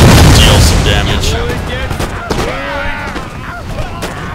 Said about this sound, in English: Grenades into their ranks, deal some damage